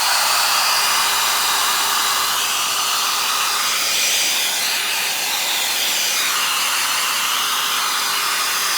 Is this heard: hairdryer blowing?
yes